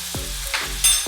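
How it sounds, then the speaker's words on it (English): Squid fries in soy sauce while a metal spoon turns it, giving a loud close sizzle broken by a few quick scrapes and clinks of the spoon against the pan. "I'm just going to give the squid a turn with a metal spoon"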